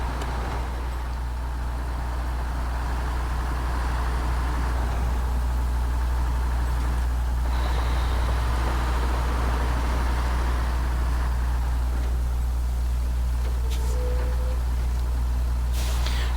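A truck engine in the SnowRunner off-road driving game drones steadily at a low pitch throughout, loud and continuous, with no talking.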